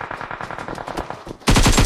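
Gunfire in a multiplayer shooter video game rattles as a loud rapid burst of automatic shots, then a second heavier, denser burst cuts in abruptly, close and dominant with no voices.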